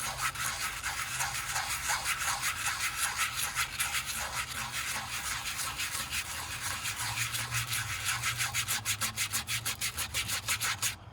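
A stiff nylon bristle brush scrubs the carbon fiber wheel barrel of a Shelby GT350R or GT500 with wheel cleaning foam, a close, rhythmic back-and-forth rasping that speeds into rapid strokes toward the end.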